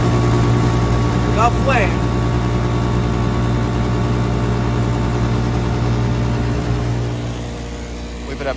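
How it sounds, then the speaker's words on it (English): A very loud inducer fan on a rooftop gas heater drones steadily with a strong low hum and mechanical whine. Someone speaks briefly over it, and the fan eases slightly toward the end. "Very, very loud inducer."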